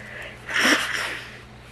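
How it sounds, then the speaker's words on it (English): A single short, forceful nose blow, a breathy blast of air that swells and fades within a second, close to the listener. "I had to blow my nose."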